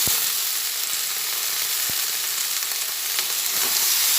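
Okra and potatoes frying in a pan for a night-time dish served with roti or paratha, giving a steady, close hiss of oil with a few sharp pops at the start, no voices.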